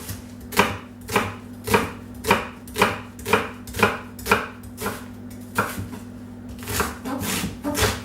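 A knife chops pumpkin into rough slices on a board, a dozen or so evenly spaced, crisp thuds in a steady rhythm, close and clear with a faint background hum.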